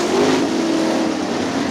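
Sprint cars racing on a dirt speedway give a loud, continuous engine roar and drone that holds steady across the whole moment, with no voices over it.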